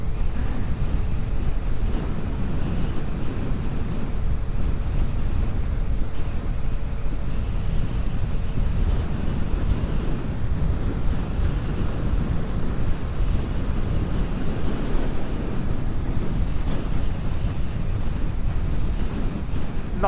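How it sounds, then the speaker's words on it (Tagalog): Strong wind buffets the microphone steadily throughout, a dense low roar with gusty rumble on an outdoor ride near Cagsawa Ruins and Mount Mayon in Bicol, with no voices. "Grabe, lakas ng hangin."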